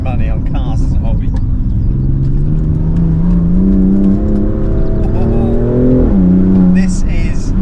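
BMW M car engine revving while driving, a loud close-up growl that climbs steadily in pitch, dips sharply as revs fall, then rises again, with bursts of higher mechanical noise near the end.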